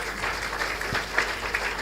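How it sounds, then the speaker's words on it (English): A conference audience at a corporate governance event gives a steady round of applause, moderately loud and diffuse, filling the room throughout. "Can we give them a round of applause again?"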